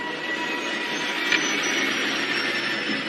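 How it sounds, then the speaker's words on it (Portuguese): Aircraft jet engines droning steadily in a cockpit as the captain adjusts power, a constant dense roar with a faint whine layered over it, loud and unbroken. "O comandante ajusta a potência de seus motores."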